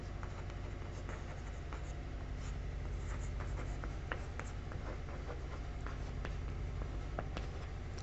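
A pen writes an answer on paper during a Class 12 physics numericals lesson, giving steady close scratching strokes with small taps throughout, no voice heard.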